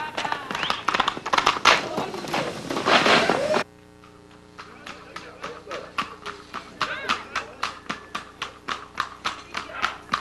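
Hoofbeats of a trotting horse that shifts into a collected canter, heard as a steady series of distinct clip-clop strikes after a few seconds of louder talk and noise, the rhythm clear and fairly close.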